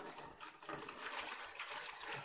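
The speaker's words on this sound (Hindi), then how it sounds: "पानी दर गैलन से निकालेंगे" Water pours out of a gallon container in a small home garden, a continuous splashing gush of moderate loudness with no voices.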